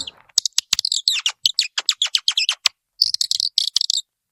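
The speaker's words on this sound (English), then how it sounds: "It is a bird call. So you just twist it." A twisted wooden screw-type bird call produces rapid, loud squeaky chirps in quick irregular bursts, near and alone, with a brief pause before a final flurry of tweets.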